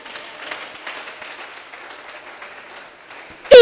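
Church seminar audience applauding and cheering for Jesus: a faint, distant patter of clapping builds across the room, ending in a sudden loud vocal shout.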